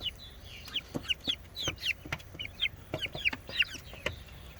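Chicks and chickens clucking near a beehive on a farm, a busy overlapping run of short chirps and clucks, close and fairly loud, with no talking.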